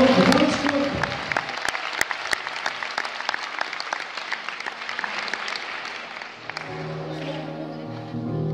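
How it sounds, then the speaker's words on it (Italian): An audience applauds as a choir from Turin is introduced at a concert in Milan, clapping crisp and lively, thinning out toward the end as a low murmur and rustle take over. "un bel applauso"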